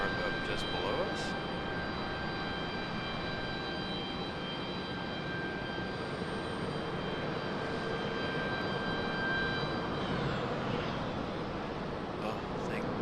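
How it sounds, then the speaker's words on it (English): Below an airport vantage point, a JetBlue airliner prepares for engine start amid a steady turbine whine with sustained high tones, a constant low background roar and a faint voice. "JetBlue getting ready to start up just below us."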